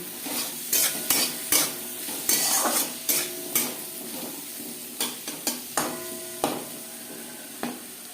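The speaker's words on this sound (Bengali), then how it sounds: "ভালো করে ভাজা হয়ে গেছে" Rice frying with winter vegetables, turmeric and salt in a pan, a spoon scraping and stirring in repeated sharp strokes over a soft sizzle, close and alone without talk.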